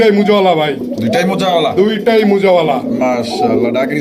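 Pigeons coo in a loud, close, overlapping chorus of throaty rolling calls that continues the whole time.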